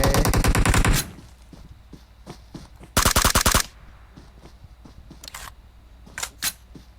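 Automatic weapon fire in the PUBG Mobile battle royale game: a loud sustained burst opens, a second rapid burst follows mid-clip, and scattered single shots and short bursts crack intermittently in between.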